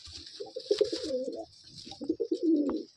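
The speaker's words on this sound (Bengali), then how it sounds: "খুব সুন্দর পায়রা" A Madrasi pigeon from a breeding pair coos up close in two rolling, throaty phrases separated by a short pause, with no talking over it.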